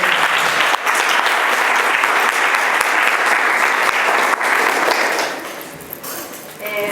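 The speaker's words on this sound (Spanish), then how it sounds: "yo voy a pedir un fuerte aplauso para ella" Sustained audience applause for a conference speaker at a talk in an institute hall, a dense even wash of clapping that fades near the end.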